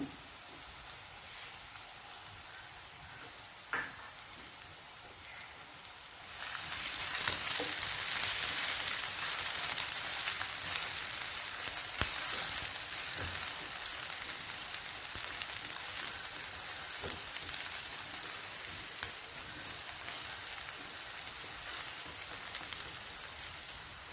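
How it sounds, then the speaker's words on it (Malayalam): Sliced banana sautéing in ghee, a steady soft sizzle that grows louder and fuller partway through, then crackles on evenly with faint stirring ticks. "അപ്പോൾ പഴമെല്ലാം ഇവിടെ നെയ്യിലൊന്ന് വഴന്ന് വന്നിട്ടുണ്ട്."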